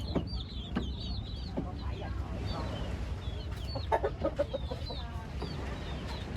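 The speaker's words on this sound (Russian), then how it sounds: "Посмотрите, это будущие боевые петухи." Young fighting roosters and hens in a crowded coop in a Vietnamese slum, clucking and squawking repeatedly at moderate distance over steady background noise, with a brief crow among the calls.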